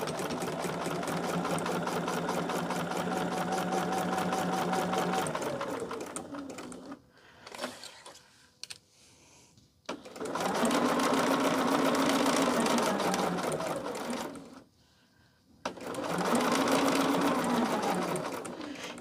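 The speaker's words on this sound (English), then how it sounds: "slide that under that needle there and get it going" A sewing machine stitches a pinned quilting seam in long steady runs, humming loudly with rapid needle chatter, stopping twice for brief pauses of handling noise before starting again.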